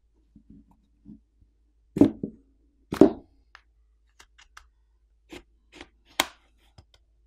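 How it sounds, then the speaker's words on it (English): A plastic pry tool pops the catches of the back housing on a Samsung Galaxy A14 5G phone, giving a few sharp, close plastic snaps and clicks spread out with quiet gaps between them. "get a plastic pry tool in between the back housing and the frame of the screen and run along the edges to pop"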